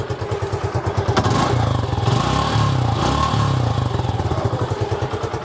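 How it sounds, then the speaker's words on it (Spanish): A Suzuki Gixxer 150 motorcycle engine idles close by with a steady, loud pulsing thump, briefly revving higher in the middle before settling back to a rhythmic idle. "Mar, ¿qué tal se escucha la moto?"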